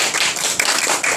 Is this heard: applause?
yes